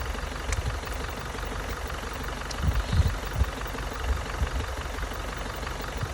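A vehicle engine idles steadily in a low, even rumble with slight surges, at moderate level and with no voices.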